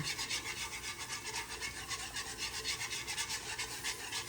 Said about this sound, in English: use a whisk and keep it moving while you add the liquid